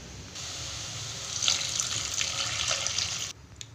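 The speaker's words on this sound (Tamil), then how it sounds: "இப்போ நம்ம புளி கரைச்சி வச்சுருக்க புளி தண்ணி சேர்த்துக்கலாம்." Tamarind water poured into a pot of rasam in a home kitchen gives a steady, close splashing pour lasting about three seconds, then stops abruptly.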